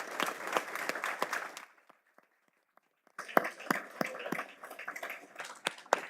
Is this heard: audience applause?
yes